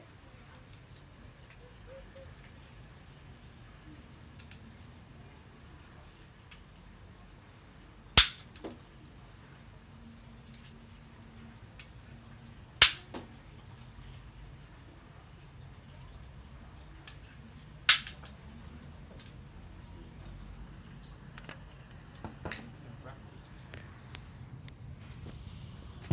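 Three sharp, loud cracks from a Slingstrike slingshot fired during an outdoor shooting test, spaced several seconds apart over quiet background, with a few fainter clicks and some talk in between.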